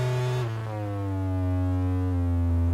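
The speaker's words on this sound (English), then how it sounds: "these stranger kind of tones, which are almost throat-like" Sustained buzzy, throat-like synth tone shaped by EQ boosting in the high mid-band, with a pitch that drops slightly near the start and then holds steady, loud and unbroken.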